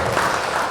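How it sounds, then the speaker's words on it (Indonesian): Steady, dense clapping from an audience after a panel discussion fills the whole short moment, even and sustained without any break. "Tepuk tangan buat tiga narasumber."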